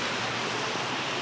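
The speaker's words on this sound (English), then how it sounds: "this is not like London rain. This it's is like proper rain" Heavy rain pours down in Edinburgh, a steady dense hiss of falling water that stays loud and even throughout, with no voices over it.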